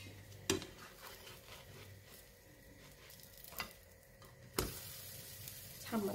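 Msemen flatbreads frying in oil in a pan give a steady, low sizzle, broken by a few sharp clinks and taps of a utensil against the pan. No one speaks.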